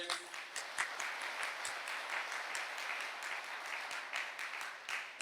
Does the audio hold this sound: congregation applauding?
yes